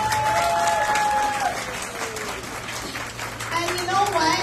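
Loud audience applause fills a campaign rally hall, a dense sustained clapping wash lasting several seconds with cheers and a few voices mixed in.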